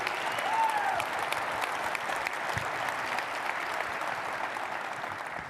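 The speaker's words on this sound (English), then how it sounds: "you should stand up and applaud right now" An audience at a Cisco Live 2022 keynote broadcast applauds in a steady, dense wash of clapping that holds at a fairly even level throughout, with a brief whistle near the start.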